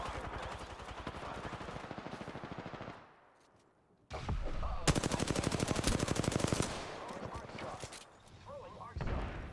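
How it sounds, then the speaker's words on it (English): Rapid automatic gunfire from a shooter in the Apex Legends battle royale, loud sustained bursts with a brief quieter lull midway, then a dense, steady volley resuming, with voices talking over it. "I am taking fire."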